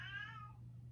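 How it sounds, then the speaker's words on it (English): A pet cat gives one drawn-out, childlike meow that fades away, heard faintly in the background of a room with a steady low hum. "If you hear my cat in the background, kind of sounds like a child."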